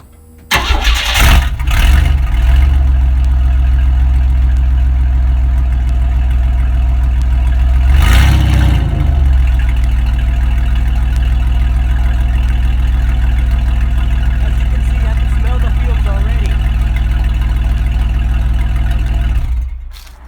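Engine of a 1994 Chevrolet Astro van with no muffler starting up and running, a loud, raw exhaust roar with a surge early on that settles into a heavy, steady idle before cutting off near the end.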